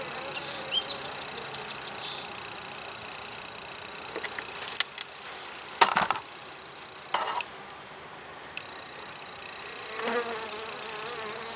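Honeybees hum steadily from an opened hive during a frame inspection. Individual bees buzz louder as they pass close by, with a few soft clicks and knocks.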